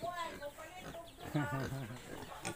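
Native chickens in a backyard in Nueva Fuerza, Carmen, Bohol, clucking in short repeated calls at moderate distance, mixed under someone talking throughout.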